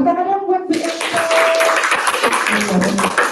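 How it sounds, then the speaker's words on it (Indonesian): A group applauds a teacher at a school gathering in Indonesia, a burst of clapping that starts abruptly and continues busily, with children's voices and chatter mixed in and a voice heard just before it begins. "Tepuk tangan dong buat Bu Elisa."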